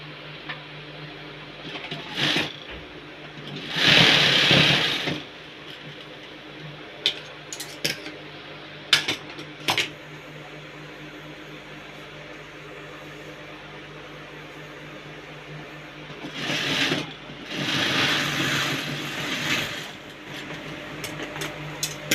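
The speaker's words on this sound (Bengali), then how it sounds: "উপরে সেলাই মারতে হবে।" A sewing machine stitching a pocket runs in short bursts: a quick buzz, a longer run of stitching, scattered clicks, then two extended runs near the end against a quiet room.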